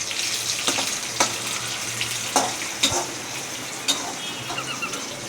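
Onions, crushed garlic, shallots and curry leaves sizzle steadily in a pan, with a constant frying hiss broken by occasional sharp scraping stirs.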